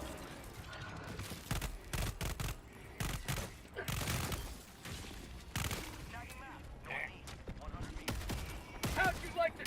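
Rapid automatic gunfire in Helldivers 2, dense bursts of shots with booming impacts and clanks, faint in level, with a player talking intermittently over the firing.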